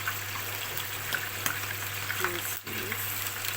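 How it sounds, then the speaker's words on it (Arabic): Meat seared on a grill for stuffed grape leaves, giving a steady close sizzle and hiss with a few small clinks and a brief dip partway through, no clear talking. "حطينا اللحمه، هنديها صدمه بس في الجريل"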